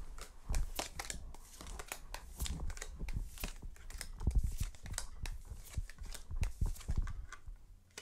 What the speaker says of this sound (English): Okay, so I just cut the deck